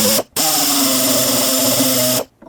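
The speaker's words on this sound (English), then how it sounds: "I'm going to try drilling this one out" Electric drill boring out a fastener in a 2001-2007 Volvo V70 door, two loud bursts, a short one then a sustained two-second whine with a steady droning pitch, close up.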